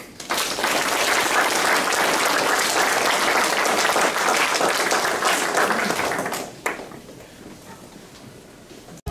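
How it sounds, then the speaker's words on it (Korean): A lecture audience gives memorial applause, dense steady clapping for about six seconds before quickly thinning out and fading. "천상에서 평안하시라고 평안의 박수를 한번 부탁드리겠습니다"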